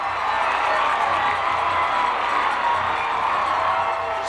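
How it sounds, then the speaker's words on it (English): A large crowd at a 1996 football game between the Nashville Scrappers and Prescott Curley Wolves roars steadily after a touchdown, with loud sustained cheering and shouts holding at full level throughout. "Just listen to the crowd."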